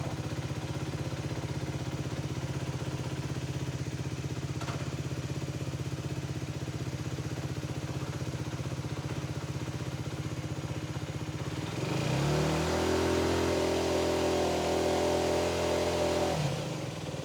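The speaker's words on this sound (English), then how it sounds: "start the engine, put it in gear, let the wheel spin freely" An F.B Mondial HPS 125cc motorcycle engine runs steadily in gear with the wheel spinning freely for a long stretch, then revs up into a louder, higher whine that holds briefly before dropping back.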